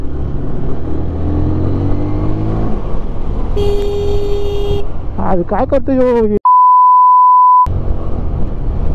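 A vehicle horn blares once in road traffic for about a second, a harmonic honk over steady engine and road noise, on a ride toward Karjat; an excited voice shouts nearby, and a flat electronic bleep follows.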